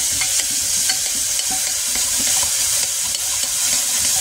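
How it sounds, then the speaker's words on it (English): Minced garlic sweating in a pan over reduced heat, a steady close sizzle with light scraping and stirring clicks throughout, no voices. "all we're doing now is just sweating the garlic out"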